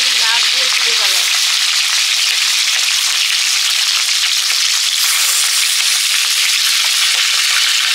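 Fresh pond-caught fish frying in hot oil, a dense continuous sizzle with crackling spatter that holds steady and loud throughout, with brief background voices early on.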